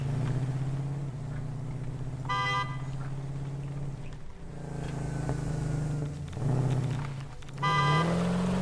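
A vehicle driving in the game Satisfactory, a steady low engine drone that runs throughout with a few short tonal honks or beeps and shifts in pitch.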